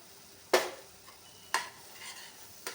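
A spoon or spatula scrapes and stirs semolina strawberry sheera with dry fruits in a pan, giving three distinct scraping strokes spaced about a second apart, with a faint background hiss.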